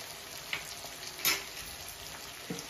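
Chicken frying in a pan with prepared masala spice mix, a quiet steady sizzle broken by a few sharp crackles and pops, with no voices.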